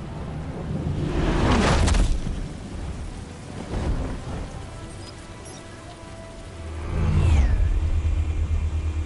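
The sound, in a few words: Batmobile engine revving in Batman Telltale video game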